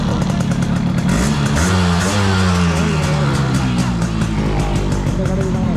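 A restored Yamaha RX135 motorcycle running with a steady, buzzing engine note and some rising revs, heard up close amid background voices and crowd noise.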